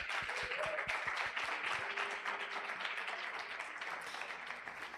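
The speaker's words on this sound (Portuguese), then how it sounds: "Salva de palmas, pessoal." Audience at a youth conference panel on communication and inequality applauds a guest joining the table, steady dense clapping throughout, fairly far and even, with a few stray voices underneath.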